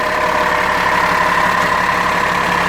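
A 2019 International rear-engine school bus idles steadily nearby, its engine and mechanical drive fan giving a constant loud hum and whir with no break.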